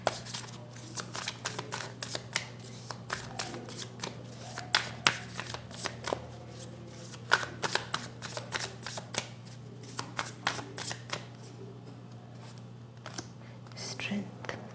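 Tarot cards are shuffled by hand in rapid, crisp riffling bursts close to the mic, with soft whispered speech underneath.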